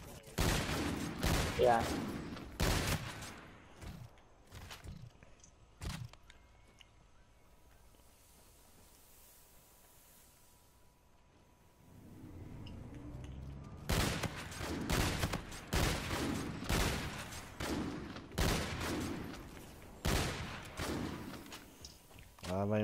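Gunfire from a double-barrel-style video game weapon that fires two bullets per shot, heard as a dense run of sharp bursts and thuds, dropping to a quiet lull mid-way before the shooting resumes; someone speaks briefly.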